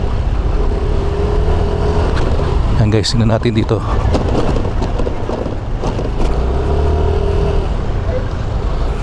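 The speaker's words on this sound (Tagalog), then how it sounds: "Ito may bago tayong motor na tinetesting." A Yamaha Lexi 155 scooter rides over a potholed road, a loud steady engine and wind rumble with bumps and rattles, while someone talks over it.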